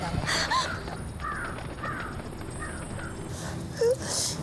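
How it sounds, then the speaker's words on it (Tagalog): Crow caws ring out a few times in a fantasy TV drama scene, short harsh calls spaced over a steady noisy background with no talking. "may uwak!"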